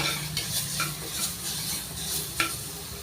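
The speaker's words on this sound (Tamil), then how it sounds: "ஆட் பண்ணிவிட்டு நல்லா மிக்ஸ் பண்ணிடலாம்." Carrot rice mixture with soaked rice is stirred in a pan, a close continuous sizzle broken by repeated scraping strokes of the spoon and a sharp clink near the end, with no voices.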